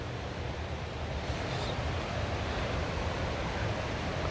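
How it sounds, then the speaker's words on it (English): A running mountain stream near Guanella Pass in Colorado, a steady, dense rushing hiss of flowing water, close and constant throughout with no voices. "the sound of a running river or stream"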